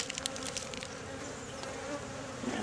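Honeybees buzz steadily at an open beehive during December maintenance, a continuous close-up drone with no talking.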